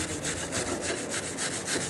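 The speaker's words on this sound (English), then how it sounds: "Wire brush it good." Wrought iron being wire brushed in a forge setting: steady, rasping back-and-forth scrubbing strokes, loud and close, repeating in an even rhythm throughout.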